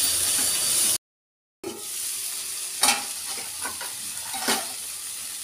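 Tomato and capsicum cook with salt in a pan, giving a close, bright sizzle that cuts out briefly and returns with stirring scrapes and spatula clicks, with no speech over it.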